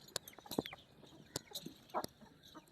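Desi and Aseel hens on a farm give scattered, quiet clucks close by, with short sharp calls and clicks spread over a few seconds and no talking.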